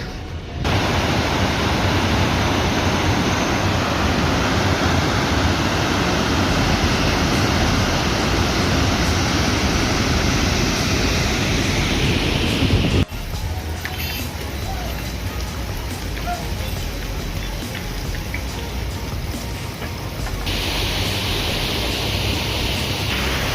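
A mountain waterfall near Rambara on the Kedarnath route roars as a steady, broad rush of falling water, heard close and loud throughout with no break.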